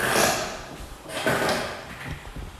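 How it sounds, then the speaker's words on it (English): An extremely squeaky chair gives a few close creaks and rubbing squeals in uneven bursts, moderately loud in a quiet room. "I have the world's squeakiest chair, seriously."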